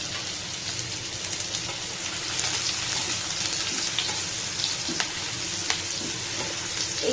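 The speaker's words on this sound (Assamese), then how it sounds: "তেলখিনি গৰম হৈছে এতিয়া ইয়াতে দিম ফুটি লোৱা আদাখিনি ফুটি লোৱা নহৰুখিনি আৰু ফুটি লোৱা জলকীয়াখিনি" Crushed ginger, garlic and green chillies fry in hot oil for chilli chicken, producing a dense, continuous hiss and sizzle at a steady level throughout, close up with no voices.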